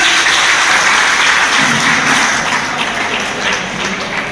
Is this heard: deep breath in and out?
no